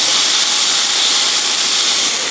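Pork grilling on a Teflon grill pan over medium heat gives a loud, steady, unbroken sizzle and hiss that holds constant from start to finish.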